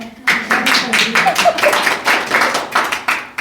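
An audience claps together through a spiritual gathering's closing session, a steady patter of many hands filling the room, with a voice faintly present underneath.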